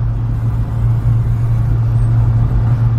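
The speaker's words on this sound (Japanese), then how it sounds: "アクセルをこう踏んでいると徐々にですね、 ギアが変わっていってっていうか、" A Subaru Sambar Dias van with automatic transmission climbs a hill, its engine a steady low droning rumble heard from inside the cabin, loud and continuous with no talk.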